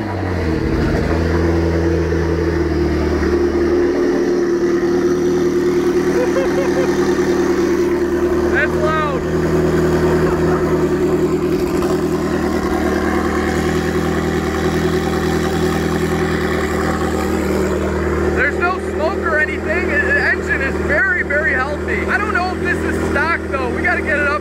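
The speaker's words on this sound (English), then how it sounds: "let's get a cold start" A turbocharged supercar bought broken with high mileage, cold-starting and then settling into a loud, steady idle with a constant low drone and a whine over it.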